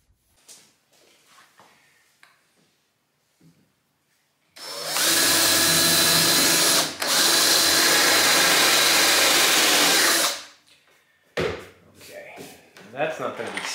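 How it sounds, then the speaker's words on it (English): A drill fitted with a countersink bit drives screws into a wooden railing in one long loud whirring burst with a brief pause partway through. Quieter knocks and handling come before and after it. "I used a countersink drill bit to drive screws during the final assembly."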